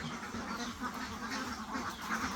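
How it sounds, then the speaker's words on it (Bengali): A flock of about eight hundred ducks on a duck farm quacks continuously, a dense, steady chorus of overlapping calls close by with no talk. "আটশো হাঁস না হ্যাঁ।"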